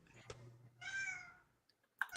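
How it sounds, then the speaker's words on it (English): A house cat meows loudly while locked out, one drawn-out complaining call followed by a shorter sharp meow after a brief pause, heard close and alone. "That's my cat. He's mad that he's locked out."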